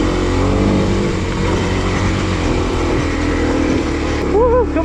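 Kawasaki KLX250 dual-sport motorcycle engine revving hard and steady up a steep climb, loud and close, with a voice speaking over it near the end.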